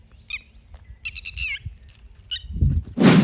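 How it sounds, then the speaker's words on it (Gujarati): Peacocks calling from behind a rural farm area during windy weather, several loud, bright, wailing cries spaced apart, followed by a burst of rushing noise at the end. "પાછળ મોર બોલાવી રહ્યા તે મોર"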